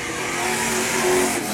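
Race car roaring around an oval track, a loud, steady engine howl with a slight swell as it rolls through the corners, heard alone without talk.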